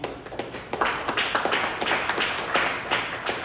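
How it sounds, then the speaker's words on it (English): A small audience at a Fremont mayoral candidate forum claps for a local track and field coach, a short, sparse burst of individual hand claps close by with little else. "let's also give a round of applause for Coach Lee Webb"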